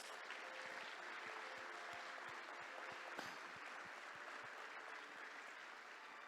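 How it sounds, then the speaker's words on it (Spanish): A church congregation breaks into steady applause during a sermon, a continuous wash of many hands clapping, heard fairly faint and distant in a reverberant hall, with a few sharper individual claps standing out. "Dale un aplauso a la palabra de Dios"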